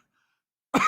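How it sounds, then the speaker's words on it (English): A single short, sharp cough from a man at close range, heard alone after a brief silence. "I can't get rid of this cough now."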